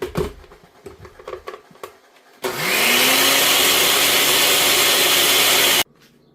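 Kitchen mixer grinder blitzing chutney a second time with no water added, starting with a rising whine and running loud and steady for a few seconds before cutting off abruptly, after brief clattering.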